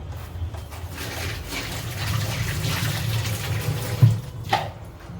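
Running tap water pours steadily as vegetables are rinsed in a kitchen sink, with a close continuous splashing rush and a couple of sharper splashes near the end.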